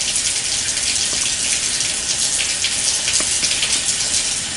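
Running water pours steadily to rinse soap off an arm, a continuous close splashing gush with no break.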